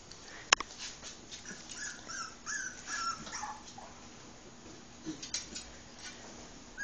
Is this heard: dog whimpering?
yes